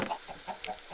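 Minecraft chickens on an egg farm cluck in short, soft, repeated calls at an even rhythm, with a brief sharp click partway through.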